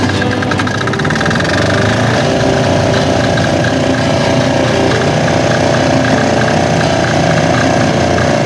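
A small generator engine runs roughly and continuously up close, a dense knocking, uneven drone at steady loudness with no voices over it.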